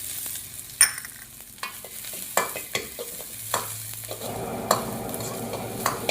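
A vegetable chop mixture with beans and carrot sizzles steadily in a pan, broken by repeated sharp scraping strokes as a spatula stirs it, close and moderately loud with no voices.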